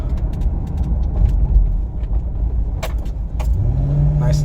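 A 2011 Ford Crown Victoria Police Interceptor drives along with a steady low engine drone and road rumble from inside the cabin, a rising engine tone near the end and a few faint clicks and rattles.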